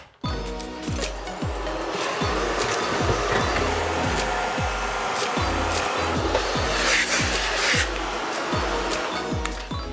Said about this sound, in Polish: najpierw odkurzę wnętrze piekarnika po to, żeby nie ubrudzić całej kuchni